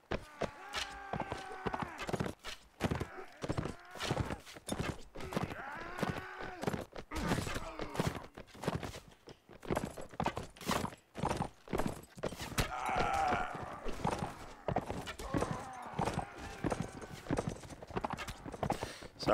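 Horse hooves clip-clop in a medieval strategy video game, with repeated sharp hoof strikes that come at an uneven, busy rhythm throughout, a horse neighing now and then, and other game sounds mixed in.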